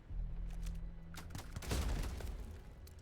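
A single gunshot fires in the Starfield video game, a sharp burst rising over a low, steady hum of ambient game sound, with no talking.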